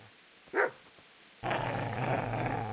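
A dog in a video game gives a short growl, then a sustained loud burst of barking and snarling that keeps going to the end.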